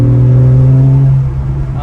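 A Porsche 991 sports car engine drones with a loud, low, steady hum of strong harmonics that eases off after about a second, close and alone.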